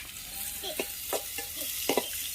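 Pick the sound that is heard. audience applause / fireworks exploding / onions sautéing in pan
onions sautéing in pan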